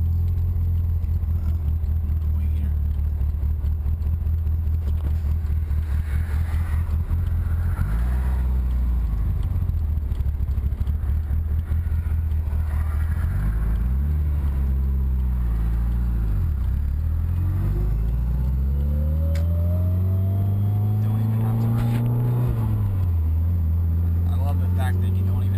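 Mitsubishi Lancer Evolution 8/9 on speed density with a stock ECU and triple-plate clutch, driving with a steady low engine drone that rises and falls through several gear changes and acceleration sweeps, heard from inside the car.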